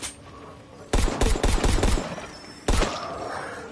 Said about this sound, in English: Pistol's my favorite gun